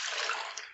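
A wet white towel is squeezed and wrung out by hand during hand washing, giving a steady, bright splash of water streaming off the fabric for under a second, close and fairly loud, with no voices.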